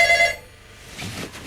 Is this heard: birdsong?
no